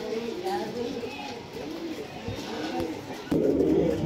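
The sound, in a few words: Duma pigeons cooing, pigeons for sale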